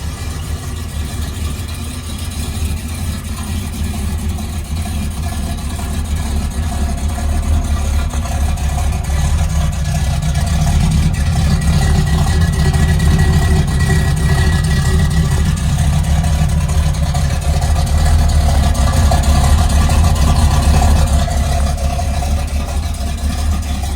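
A 1971 Chevrolet Camaro Coupe engine runs at a steady idle, loud and close with a deep, even rumble that swells slightly partway through.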